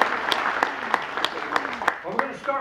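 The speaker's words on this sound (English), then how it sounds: "Big round of applause for all of your fellow guests, all of our contestants in tonight's competition" An audience at a Dancing with the Stars style dance competition claps for the contestants, with sharp individual claps standing out over a murmuring crowd and a voice talking underneath.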